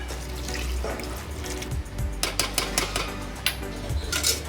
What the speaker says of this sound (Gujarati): હવે આપણે આમાં 4 ગ્લાસ પાણી નાખી દઈએ.